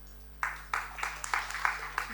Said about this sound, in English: Let's give a big round of applause for all of them